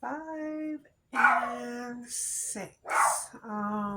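A dog whimpers and gives short yips in the background while a woman counts crochet stitches aloud and talks through a heart handbag pattern, the tonal whines rising between her words.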